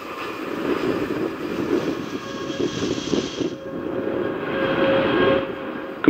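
ULA Vulcan Centaur rocket launching the USSF 106 mission for the United States Space Force, a loud, continuous, rumbling engine roar that holds steady throughout with slight swells and no voices.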